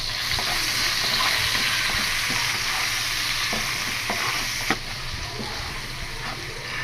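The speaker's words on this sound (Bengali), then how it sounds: "ভাজা ভাজা করে নেবে তেলের মধ্যে।" Chopped onion fries in hot oil for a jackfruit and prawn dish, a steady loud sizzle with occasional stirring scrapes and a brief clack near the end.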